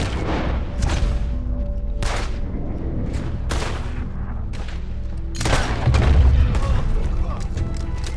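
Gunfire rings out in the video game Red Dead Redemption 2, a series of sharp, loud gunshots and booms spaced a second or so apart, with a heavier burst of firing near the end.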